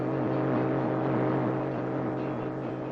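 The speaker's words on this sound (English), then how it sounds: "This is the sound of communists trying to silence Radio Free Europe." Communist radio jamming aimed at Radio Free Europe roars as a dense, loud, continuous wall of noise, with a warbling, churning texture running through it and no voices.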